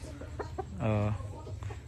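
A chicken gives a short clucking call up close, with softer clucks before and after against faint background noise.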